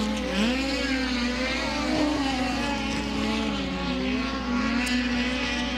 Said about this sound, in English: Methanol fuel injected, aluminum block, 4-cylinder engine underneath the hood